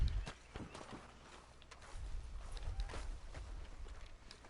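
Horse hooves clop in Red Dead Redemption 2 while the horse turns in circles at a hitching post, giving irregular, fairly quiet thuds and scuffs.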